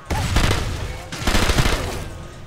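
Enemy gunfire in the video game Sniper Elite III rattles out in two dense bursts of rapid shots, loud and close, with a voice talking partway through.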